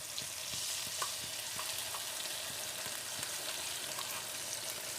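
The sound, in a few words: masala paste frying with soft onions in a pan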